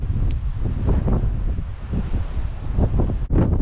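Strong wind buffeting the microphone on the beach at Struisbaai, South Africa, a loud continuous rumbling roar with gusty surges and possible surf underneath.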